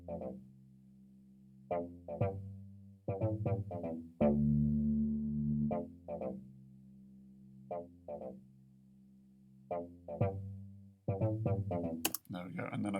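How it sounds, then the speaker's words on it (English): A looped synthetic bass line built in BandLab plays alone in short, punchy repeated notes with a distorted, croaky edge, spaced in an uneven pattern with one longer sustained note partway through. "So at the moment my bass sounds like this."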